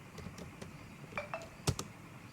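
Keys tapped on a computer keyboard while entering a file-copy command, a handful of sparse, quiet clicks with one sharper double strike near the end, no voices.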